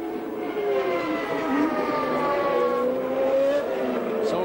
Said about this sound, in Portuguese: São os motores mais potentes da Ferrari.